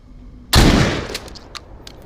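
A shotgun fires once in the video game Walking Dead: Saints and Sinners, a loud close blast with a decaying boom, followed by faint clicks and handling sounds.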